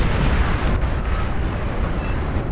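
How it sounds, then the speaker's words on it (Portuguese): A huge explosion in the strategy game Beyond All Reason: a loud, dense roar that fills the whole stretch without a break and rumbles heavily in the low end. "Na explosão eu perdi tudo"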